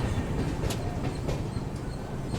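A long-distance express runs along the Arakkonam bypass line, a close, dense rumble of wheels on track with faint clickety-clack beats and no voices.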